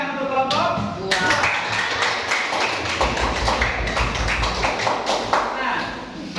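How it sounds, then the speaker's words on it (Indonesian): Hands clap together for a classroom group in a dense, continuous burst of applause that swells after the first second and holds steady, with a low background hum beneath. "tepuk tangan untuk kelompok"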